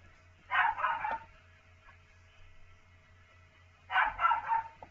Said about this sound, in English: Dog is very noisy.